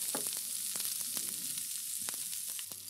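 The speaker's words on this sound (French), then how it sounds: "Je mets mes haricots verts à cuire dans cette poêle." Green beans sizzle in olive oil in a frying pan after a sprinkle of salt, a steady close hiss broken by scattered sharp crackles and pops throughout.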